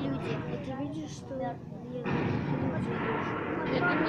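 Artillery fire plays in a Second World War exhibit beside a German cannon, a broad rumbling roar that swells after a stretch where a person talks, then continues steadily and fairly loud.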